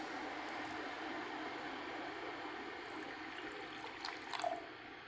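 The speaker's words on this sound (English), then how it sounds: "Hit it with a little hot water, not too much." Hot water poured into a glass of cold brew coffee while making a keto pumpkin spice latte, a steady, close liquid pour running throughout, with a brief louder splash near the end.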